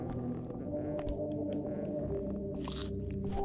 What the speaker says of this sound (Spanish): Mordisco.